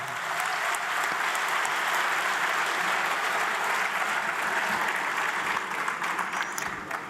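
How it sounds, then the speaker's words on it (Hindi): An audience at an Urdu poetry recital with Azhar Iqbal breaks into long, steady applause, a dense wash of many hands clapping evenly at moderate volume, with no voices over it. "मैं चाहता हूं इसका वजीफा तालियों की शक्ल में उन्हें मिलना चाहिए"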